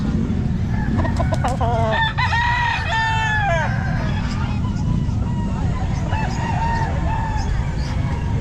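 Chickens and roosters cluck and crow loudly at a busy outdoor pet market in Calumpit, with repeated crowing early on over a constant crowd babble and traffic rumble.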